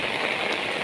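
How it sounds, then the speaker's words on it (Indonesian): Rain falling steadily on an Eid al-Fitr morning, a brief even hiss of drops on surfaces close by, with no voices. "Tapi cuacanya hujan, guys."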